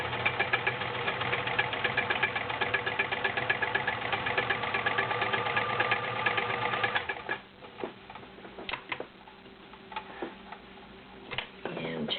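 A vintage 1980s Kenmore convertible sewing machine runs with a fast, steady ticking whir for about seven seconds and then stops, leaving scattered clicks and soft handling noises.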